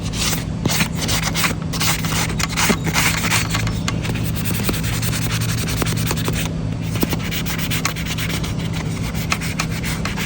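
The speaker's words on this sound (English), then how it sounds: "Every time you sand one area, you want to walk it around," Hand sanding a wooden rocking chair, close rhythmic rubbing and scraping strokes of sandpaper on wood, loud and continuous with no talk.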